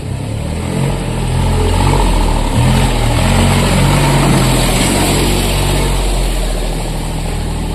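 A loud, close tractor engine rumbles steadily as the tractor drives away, a low chugging drone with no voices.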